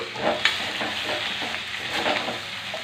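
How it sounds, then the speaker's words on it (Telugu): Chicken stirred and frying in a pan with onion, green chillies and curry leaves, a steady close sizzle broken by scraping stir strokes throughout. "చికెన్ వేసుకున్నామండి, కలబెట్టుకున్నాం."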